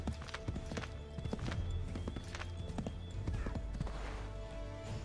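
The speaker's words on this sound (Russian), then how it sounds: "Надеюсь, лошадь-то преодолеет хотя бы вот это вот препятствие." Horse hooves clip-clop at a steady gallop in Assassin's Creed 3, loud and close throughout, with rhythmic thuds over a dense game soundscape and occasional whinny-like tones.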